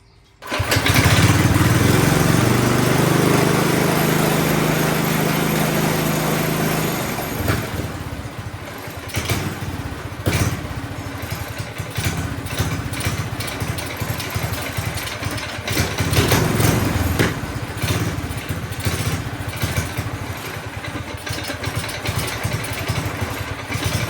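A minibike's small engine idles loud and close for about 24 seconds, a steady rough running drone that starts strongly and then settles into a slightly uneven idle, with no talking.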